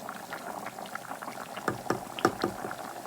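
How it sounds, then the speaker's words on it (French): Water boils in a pot of cooking rice with chorizo, a quiet, continuous bubbling with a few slightly louder pops near the end. "Comme vous pouvez voir, ça bout bien."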